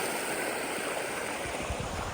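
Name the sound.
creek water flowing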